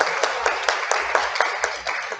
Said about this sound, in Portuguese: ela merece essas palmas mesmo